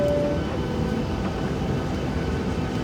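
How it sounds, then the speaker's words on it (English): A Ryanair airliner taking off from Riga, heard from the cabin as a loud, steady roar of engines and rumbling wheels that holds evenly throughout. "this is the live takeoff. Ryanair from Riga to Newcastle"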